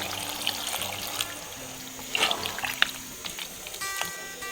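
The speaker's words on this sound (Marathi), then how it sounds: "आता एक ग्लास पाणी घालायचं" A glass of water trickles and splashes into a pressure cooker nearby, with a few sharper drips and clinks over a low background hum; no talking.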